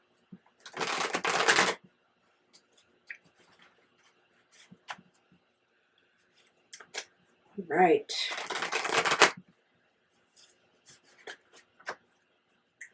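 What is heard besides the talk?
shuffling tarot cards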